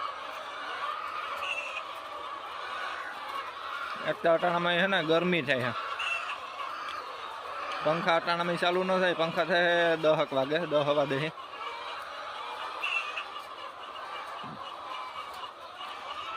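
Roosters and poultry on a farm call in two loud, drawn-out bursts of crowing and gobbling over steady background hum, with people talking nearby.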